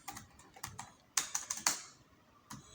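Typing on a computer keyboard while filling in a Facebook profile bio, with clusters of quick, close key clicks in short bursts, a louder run of strokes in the middle and a final tap, with no talking.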